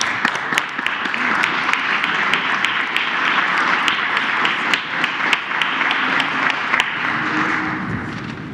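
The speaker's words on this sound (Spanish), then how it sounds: "Un aplauso" A crowd applauds steadily at a Mexican government minimum wage announcement, a dense wash of clapping with sharper individual claps popping out, sustained throughout.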